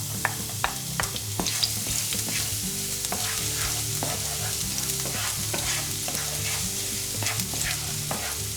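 Garlic fries in a pan with a steady, close sizzle, broken by light clicks and scrapes as it is stirred.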